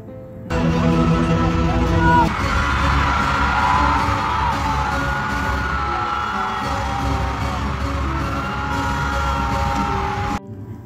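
A large crowd of fans screams and cheers at a concert, a loud, sustained roar filling the whole stretch and cutting off abruptly near the end.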